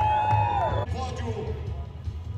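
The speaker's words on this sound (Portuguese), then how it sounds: "O aplauso do Felipe" Crowd cheering and clapping at a Stock Car race podium, loud and lively at first, then fading under a commentator's voice.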